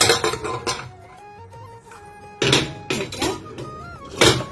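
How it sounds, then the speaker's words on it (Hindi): A metal pressure cooker holding ghugni is opened after its steam has been let out: sharp metallic clanks and scrapes of the lid come in several close bursts, with quieter gaps and a faint lingering hiss between them. "कुकर से भाप निकल गए, अब एकरा एक बार खोल के देख ले छी घुगनी के"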